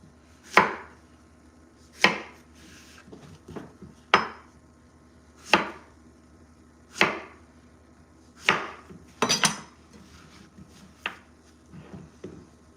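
A knife chops chicken into pieces for brown stew chicken: about nine heavy, close thuds on a board, spaced roughly evenly every second and a half, with a quick double chop near the end and no voices.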